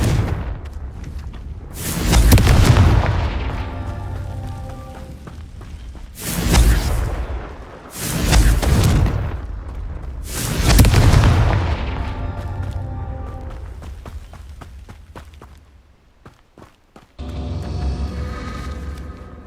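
Confringo explosion spells cast in the video game Hogwarts Legacy: four heavy booming blasts with rumbling tails, spaced a few seconds apart, loud and close, followed by a quieter rustling ambience.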